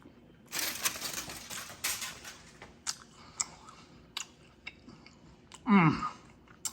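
A chopped cheese sandwich cooked on a griddle is bitten and chewed up close. Crunchy bites and wet chewing come in irregular bursts with small clicks between them, ending in a louder muffled burst that could be a voice.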